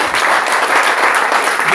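A church congregation applauds loudly and steadily at a worship gathering, dense continuous clapping close by, with a voice speaking briefly over it.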